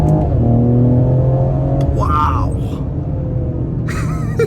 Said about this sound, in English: Those are some aggressive downshifts too.